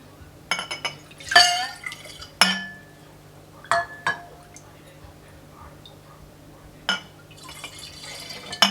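Apple cider vinegar with the mother is poured into a glass jar, giving a few liquid splashes and drips with sharp glass clinks, close and intermittent, with occasional talk.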